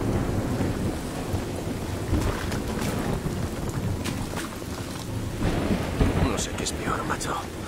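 Steady rain and rolling thunder fill a stormy scene in a video game, a constant wash of downpour with deeper rumbles swelling throughout.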